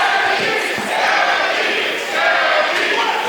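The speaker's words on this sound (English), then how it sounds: "the crowd begins to cheer for Gabby Forza" Wrestling crowd at a Limitless Wrestling 10th anniversary show cheering for Gabby Forza, a dense, sustained roar of many voices filling the hall, swelling slightly near the end, with no clear single voice standing out.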